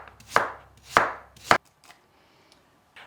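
Three sharp knife chops through an apple on a cutting board, evenly spaced about half a second apart and close up, followed by a couple of faint taps and near silence.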